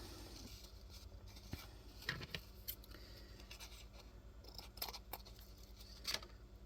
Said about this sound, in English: Careful not to cut the card when I'm cutting the lace here.